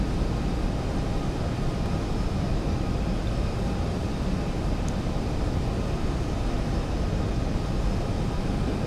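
Simulated Boeing 737-800 jet at full throttle during a touch-and-go in X-Plane 11, a steady, loud broadband engine roar that holds without pause throughout.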